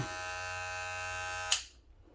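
A Wahl Magic Clip hair clipper hums at a steady, close electric buzz for about a second and a half, then switches off with a click and the motor winds down into silence.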